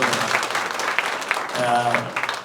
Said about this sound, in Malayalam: ഒരു നല്ലൊരു കയ്യടി ഞങ്ങളുടെ ഡയറക്ടർ